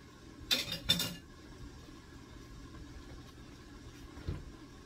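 A couple of quick metallic clanks as a lid is set onto a cooking pot of dried fish, followed by quiet room noise and one soft knock later.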